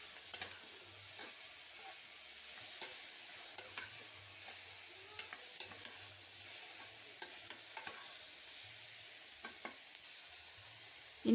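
Vegetables sauté in a pan for vegetable soup, a faint, soft sizzle broken by repeated scraping stirs of a spoon, close and quiet with no talking.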